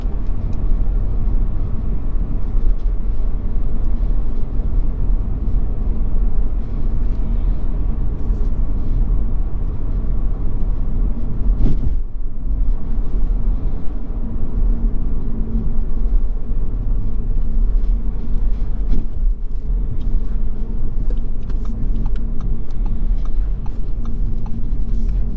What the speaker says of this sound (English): speaking of the ride noise, it's very quiet